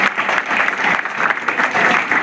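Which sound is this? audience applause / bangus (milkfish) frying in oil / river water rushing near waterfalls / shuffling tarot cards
audience applause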